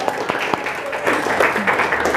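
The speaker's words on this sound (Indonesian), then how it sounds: "Tepuk tangan." A class claps during a teaching practice session, the scattered individual claps early on building into a fuller patter of applause, close and moderately loud.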